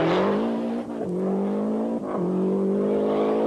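Bruno Saby's four-wheel-drive Lancia rally car at the 1990 Critérium des Cévennes revs hard and loud, the engine note rising steadily and dipping sharply at two gear changes before climbing again.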